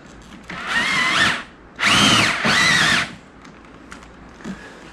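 An electric drill drives screws while a neck brace kit is fitted, heard in three close, loud whirring bursts with a short pause between the first and second, then quiet handling afterward.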